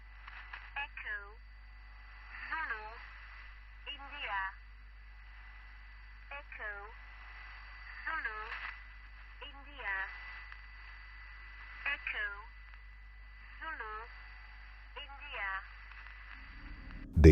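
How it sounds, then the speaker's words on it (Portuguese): Morse code from a Russian military numbers station: short bursts of tone keyed at regular intervals over roughly seventeen seconds, thin and radio-filtered above a steady low hum, with a loud click at the end. "Aqui o negócio é puro código Morse, rápido e impiedoso."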